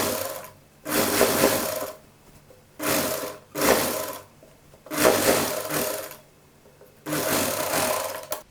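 A sewing machine stitches along the edge of fabric for a child's Patiala dress, running in five steady bursts of whirring separated by short quiet pauses.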